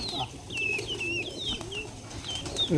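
Giribaz pigeons at a pigeon farm coo softly in low, rolling tones, mixed with higher chirping calls and a busy murmur of birds close by.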